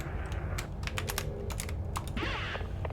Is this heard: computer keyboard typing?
yes